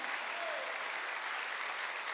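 Church congregation applauding during a Sunday worship service, a dense steady clapping that fills the space evenly from start to finish.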